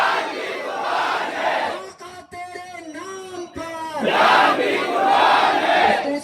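At a Muslim protest rally, a large crowd shouts religious slogans in unison, loud and massed, with a single voice leading a call between the roaring responses.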